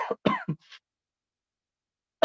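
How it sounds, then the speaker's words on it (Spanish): A few harsh coughs from one person during a physics lesson: several quick bursts close together, a stretch of silence, then one more cough at the end. "y me dio tos"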